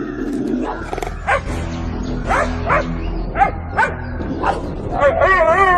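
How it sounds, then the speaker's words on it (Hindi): A dog barks and yelps repeatedly at close range, the sharp calls rising in pitch, with a steady background hum underneath. "उसका भौंकना तो बंद होने का नाम ही नहीं ले रहा था"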